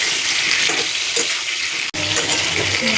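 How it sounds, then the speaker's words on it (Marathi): Drumstick pods sauté in a little oil, giving a steady, close sizzle with faint stirring scrapes and one very brief dropout partway through. "छान पैकी थोड्या तेलामध्ये असं परतून घ्यायचं"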